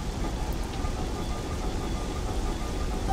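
Steady rain falls in the video game The Legend of Zelda: Twilight Princess, heard as a faint, even hiss with no talking.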